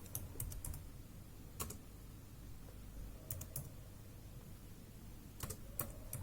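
Typing on a computer keyboard, a soft steady patter of keystrokes with a few sharper clicks standing out, close and fairly quiet against faint room hum.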